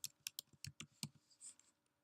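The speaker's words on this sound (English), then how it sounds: "I'm going to type it in." Quick, faint keystrokes on a computer keyboard, a short burst of crisp clicks with uneven rhythm, close and alone without talk.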